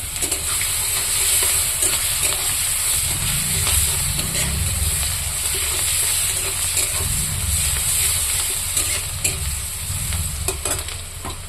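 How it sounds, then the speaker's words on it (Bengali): Onion sizzles and crackles steadily in hot oil, a loud continuous frying hiss with occasional stirring scrapes beneath it and no one talking. "তেলটা গরম হয়ে গেছে। একটু পেঁয়াজও দিয়ে দিলাম।"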